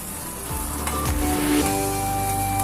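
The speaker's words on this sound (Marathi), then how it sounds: "कांदा छान गुलाबी होईपर्यंत परतून घ्या" Chopped onions with ginger-garlic paste sautéing in a pan for dhaba-style chole masala, producing a loud continuous sizzle with a few low scraping stirs, with no voices.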